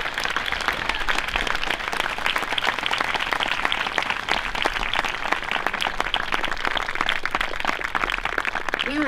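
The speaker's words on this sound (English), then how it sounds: "Please give a big round of applause to those who participated in our program." Steady, dense applause from a crowd, continuous and loud throughout with no pauses.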